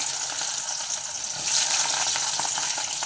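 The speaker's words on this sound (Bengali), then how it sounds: "তারপর কড়ার মধ্যে দিয়ে দিচ্ছি পেঁয়াজ।" Onions frying in a kadai with oil seasoned with dried red chillies and bay leaves, giving a steady, loud hiss and crackle that swells partway through, with faint stirring scrapes and no talk.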